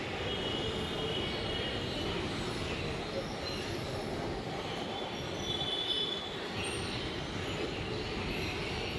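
A Mumbai Metro Aqua Line 3 train running underground between Aarey and Worli, a continuous loud rumble of wheels on rails with high squealing and a faint background voice.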